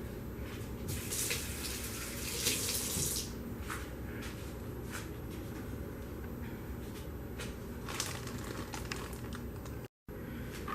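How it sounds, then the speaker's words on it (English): Tap water runs steadily into a sink while hands are washed beneath it, a continuous close splashing broken by a few brighter splashes and one very brief gap. "Let me wash my hands off."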